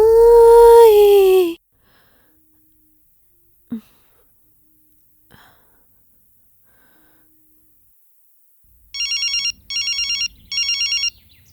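A telephone rings in three evenly spaced electronic bursts near the end, after a loud gliding sound, a long silence and a couple of faint knocks.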